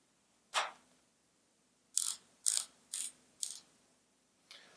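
Boa closure dial on a New Balance FuelCore Sonic running shoe ratcheting: one short clicking burst, a pause, then four quick evenly spaced ratchet bursts and a fainter final one, close and crisp.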